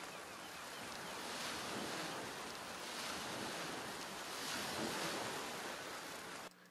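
Ocean waves recorded on a beach, a broad continuous wash of surf with wind noise, steady and fairly loud, cutting off abruptly at the end; no talk.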